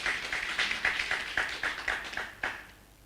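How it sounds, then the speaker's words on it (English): Audience clapping at an education demo day event, a steady patter of hand claps with regular accented peaks, moderately loud and fairly close, with no talk over it. "Can we clap for them in advance?"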